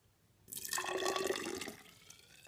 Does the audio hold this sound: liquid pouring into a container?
yes